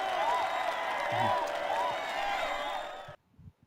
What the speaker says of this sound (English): And our fake crowd goes bonkers.